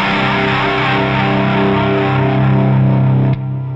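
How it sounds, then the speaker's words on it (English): Kurzweil keyboard played through a Pigtronix Rototron analog Leslie simulator pedal with the brake engaged: a loud, distorted sustained organ-like chord whose swirl slows, then cuts off abruptly near the end, leaving a quieter tail. "And here's with the brake."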